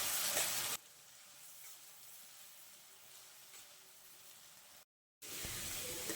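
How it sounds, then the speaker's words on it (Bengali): Steady sizzling of onions frying brown over high heat in hot oil, a continuous bright hiss with a brief silent gap near the end. "প্রথমে আমি পেঁয়াজ বেরেস্তাটা করে নেব"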